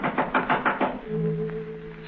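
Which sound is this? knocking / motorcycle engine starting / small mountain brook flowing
knocking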